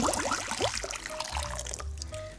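Hot water from a tap runs and splashes into a basin before shaving, a close, bubbling gush that eases into lighter trickling and drips.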